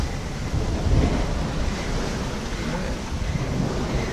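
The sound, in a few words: sailboat sailing through ocean waves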